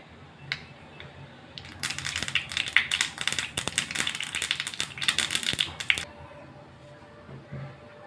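Mustard seeds sputtering in a tablespoon of hot oil while tempering for tomato onion chutney, a burst of rapid crackling pops that starts abruptly, runs loud and dense for several seconds, then dies away to quiet sizzling.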